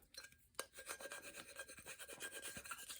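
A tool rubbed firmly over transfer tape to burnish a vinyl decal on a cup, producing faint, close scraping strokes in quick rhythmic succession.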